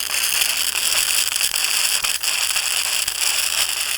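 Small Mamod SA1 steam car boiler blowing out steam, a loud, continuous hiss and rush filling the clip with faint crackling and no talk.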